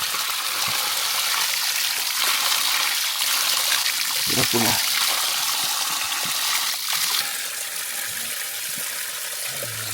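Clear spring water from Chokka hill flows steadily in a broad, close hiss of running water that fills the whole scene, with someone speaking briefly over it.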